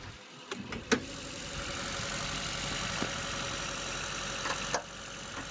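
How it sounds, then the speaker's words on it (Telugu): An LPG car, a used vehicle, starts and settles into a steady idle, a continuous mid-range engine hum with a few brief clicks and knocks along the way, heard close with no one talking. "బండి స్టార్ట్ అయింది, ఇప్పుడు"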